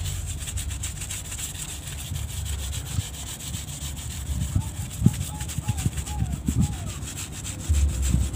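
Steady, close rubbing and scraping as a traditional heirloom pusaka weapon is cleaned by hand, continuing throughout with a low hum underneath and a few sharper knocks, while someone talks softly.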